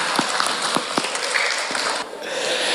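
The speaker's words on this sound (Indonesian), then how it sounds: "Tepuk tangan ya." An audience at an Islamic Isra' Mi'raj religious gathering in Madura applauds, with a few distinct louder claps standing out over a steady spread of clapping that dips briefly near the end.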